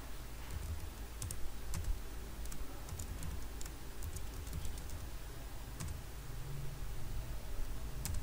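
A computer keyboard is typed on in quick irregular bursts of soft clicks while a database replication command is entered, quiet and close with a low background hum, no voices.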